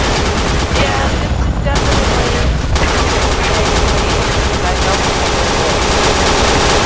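Dense, nonstop gunfire from a RenAlert multiplayer shooter match fills the whole stretch, rapid automatic bursts and overlapping shots layered into a loud, chaotic barrage with no let-up.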